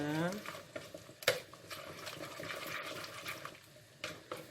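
A spoon stirs a sausage (sucuk) and cheese filling for savory bread in a bowl, giving soft scraping and clinking strokes with a sharper knock near the middle and a brief voice at the start.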